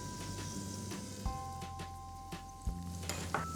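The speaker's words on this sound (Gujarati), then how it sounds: "હવે આપણે એની અંદર આ કેપ્સિકમ એડ કરી દઈશું." Capsicum and green chili fry in hot oil with a soft, continuous sizzle, and a few sharper stirring knocks and clatters punctuate it.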